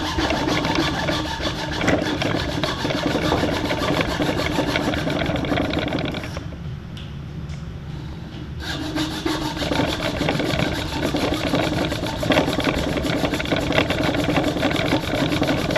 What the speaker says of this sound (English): hold your saw parallel and cut through